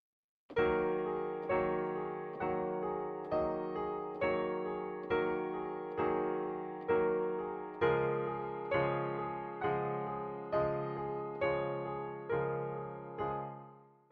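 A solo piano plays a slow melody from a song of evenly spaced notes, each struck clearly and left to ring and fade before the next.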